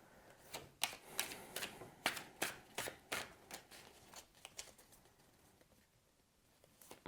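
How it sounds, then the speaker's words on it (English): A deck of Everdell board game cards is shuffled by hand in a quiet room, giving a run of quick riffling and snapping bursts that come in uneven clusters and then trail off. "I'll give that a shuffle."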